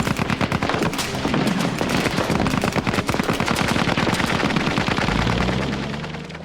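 Sustained machine gun fire in a firefight between SAS troops and German soldiers escorting civilian hostages, with rapid, dense bursts of automatic shots that run loud and unbroken for several seconds before easing slightly at the end.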